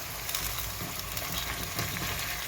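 Eggplant pieces fry in a pan, producing an even, close sizzling hiss with faint stirring ticks throughout and no talking.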